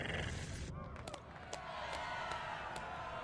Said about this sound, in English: Gormaks are cheering.